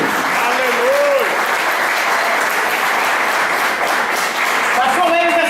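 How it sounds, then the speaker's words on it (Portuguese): A church congregation applauds during a worship seminar, a sustained, steady roar of many people clapping at close range, with a voice heard briefly near the start and again near the end. "Você tem que começar a aplaudir para Jesus."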